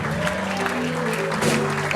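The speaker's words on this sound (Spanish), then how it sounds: "Dale un fuerte aplauso al Rey" Church congregation clapping, a dense round of applause mixed with a sustained sung or voiced tone and some crowd voices.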